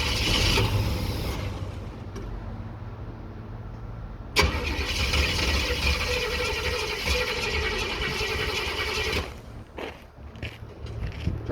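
A 1966 Chevy C10 pickup with a suspected fuel filter or fuel pump fault has its engine cranking with a steady churning whir, then catches with a sudden burst and runs rough and loud before sputtering and cutting out.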